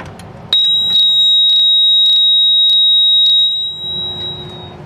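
Wheelock 7002T fire alarm horns sound during a full system test: a loud, steady high-pitched tone starts abruptly and holds for about three seconds with rhythmic pulsing bursts layered over it, then cuts off to room noise.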